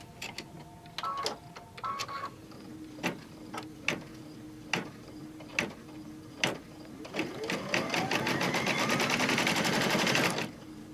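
An embroidery machine stitches down a mug wrap piece in the hoop, starting with separate sharp clicks and taps, then settling into a fast, steady, close stitching chatter that stops abruptly.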